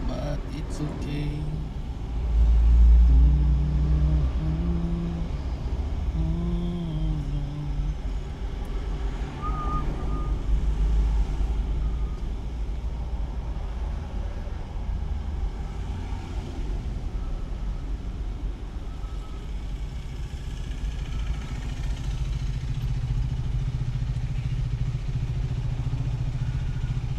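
Road traffic around a truck on the move: steady engine rumble, passing vehicles and faint reversing beeps, with someone talking over it much of the time.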